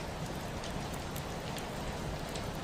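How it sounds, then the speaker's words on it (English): Steady rain patters on a window glass, a dense even hiss with scattered brighter drop taps, continuous and close with no voices. "the rain on the window is just a sound"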